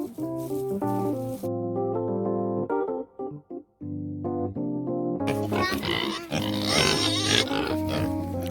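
Several pigs in their pen grunt and squeal close by, with loud, overlapping calls that stop briefly and then return louder.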